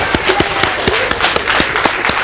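Studio audience applauding on a 1990 Icelandic television talk show, a steady dense wash of clapping with sharp individual claps standing out throughout.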